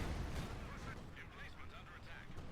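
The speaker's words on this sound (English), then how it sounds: "more artillery fire coming in." Artillery barrages in Company of Heroes 2: low, rumbling booms roll under a steady background of battlefield noise, with repeated distant impacts across the moment and a voice talking over them.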